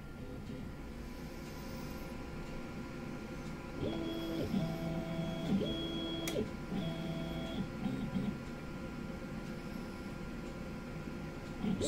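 CNC machine running an external corner probing routine, giving a steady low machine hum with several short electronic tonal beeps and whines in the middle, quiet and without talk.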